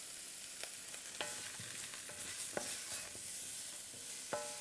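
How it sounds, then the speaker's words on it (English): A spoon stirs carrots and potatoes through a sizzling pot of Hungarian goulash, giving steady frying hiss with a few distinct scraping clicks, close up and without speech. "We'll give this a nice stir around."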